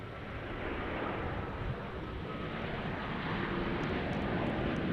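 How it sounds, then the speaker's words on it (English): A Boeing Dreamliner airliner from Tokyo at DFW airport sends out a broad, steady roar of jet noise that holds at a constant level, heard from a distance with wind rumble and no talk. "Here's our Dreamliner from Tokyo."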